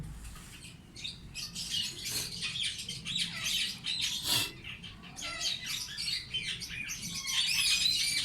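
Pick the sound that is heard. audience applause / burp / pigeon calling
pigeon calling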